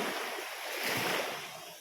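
Sea waves wash onto a quiet beach at Sibutu, heard as a dense, steady rushing hiss with a soft low swell, mixed with wind buffeting the microphone. No voices.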